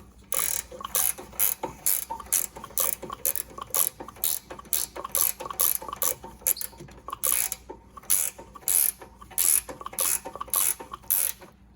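Rapid clicking of a ratchet wrench tightening bolts on a rear brake caliper of an Infiniti, in bursts of quick metallic ratchet strokes with short pauses, close and clear with no talking.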